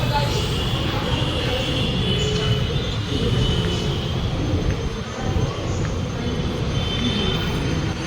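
A metro train in Hyderabad runs along the track with a loud, continuous rumble and a thin metallic wheel squeal riding on top, holding steady for about eight seconds.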